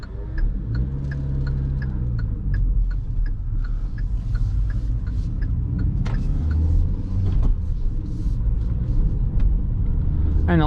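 A 2020 Hyundai i10 hums along through town at night, low steady engine and road rumble inside the cabin, with a regular faint ticking like an indicator over it and no speech.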